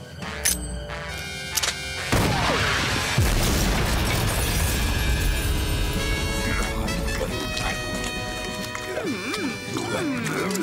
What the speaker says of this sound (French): Envoie-leur la bombe incendiaire.